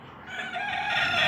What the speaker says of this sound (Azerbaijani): Görürsünüz, xoruz da banlayır